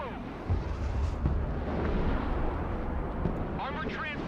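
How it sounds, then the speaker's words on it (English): Howitzer artillery fire in the video game Broken Arrow rumbles as continuous deep booms and explosions under a dense battle mix, with someone talking over it. "Let's call in the howitzers as well."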